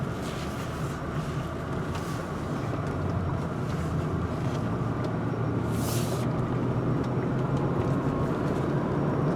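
A 1998 Lexus LS 400 cruises with its engine kept low and smooth under a steady road and cabin rumble, a soft even hum with no sharp revving, and nobody speaking.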